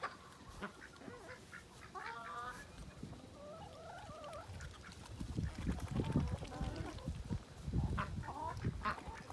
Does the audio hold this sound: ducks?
yes